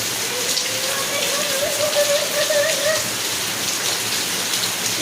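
Steady rain falls outdoors near trees, a dense continuous patter on surfaces with a faint tonal sound drifting through the middle, no talking.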